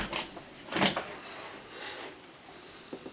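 The door of an X-Shot Dual toy dart blaster opens, a short plastic clack and scrape near the start followed by fainter handling clicks.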